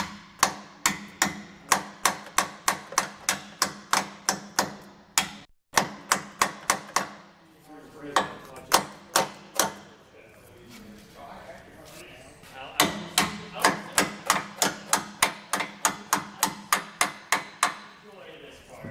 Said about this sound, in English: I will take a small mallet and beat these brackets out.